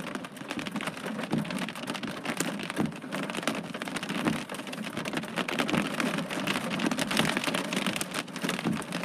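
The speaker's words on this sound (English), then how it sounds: "Now that's a beautiful storm." Steady, dense rain pours down during a thunderstorm in Los Angeles, a close, continuous hiss of drops striking surfaces with scattered louder spatters and no voices.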